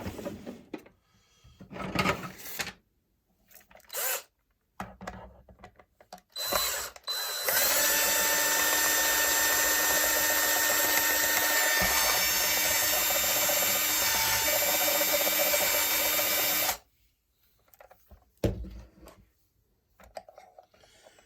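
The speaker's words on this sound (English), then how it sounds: "I'm going to go ahead and try my drill." A power drill driving short screws whirs steadily for about nine seconds, loud and close, between brief bursts of handling noise and clatter before and after.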